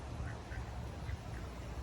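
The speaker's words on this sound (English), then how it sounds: "There's more ducks down there" Ducks quack faintly and at a distance at a park creek in Corbin, Kentucky, with a few short calls rising above a steady low outdoor rumble.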